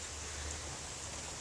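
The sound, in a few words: rain falling outdoors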